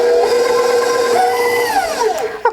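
Electric mixer whirring through cheesecake batter: a steady, loud motor whine with a tone that bends and shifts as the beaters work, ending in a brief clunk.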